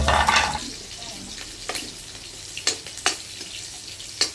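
Eggs with Chinese kale and canned fish sizzle and crackle in a frying pan, with a burst of hissing at the start and sharp pops and clatters of stirring afterward.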